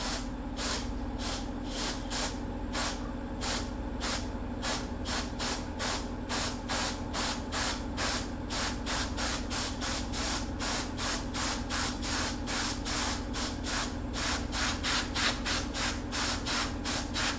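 An airbrush sprays gray paint onto the nose pad of a deer mount, giving a steady close hiss broken into rapid, regular pulsing bursts that continue without pause over a constant low background hum.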